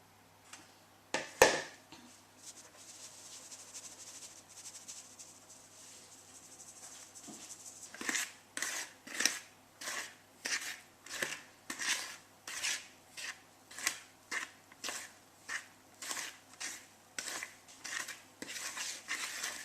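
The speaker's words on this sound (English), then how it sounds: "Then fold the mixture together until everything is thoroughly mixed." A spatula folding brownie batter in a bowl, a steady run of soft rhythmic scraping strokes, faint and close, after a sharp clink near the start.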